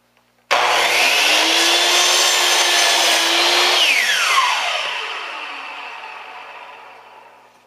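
A Hitachi C10FCE2 miter saw spins up abruptly and cuts through crown molding, its loud whining motor steady for a few seconds, the pitch shifting as the blade bites, then winding down over several seconds.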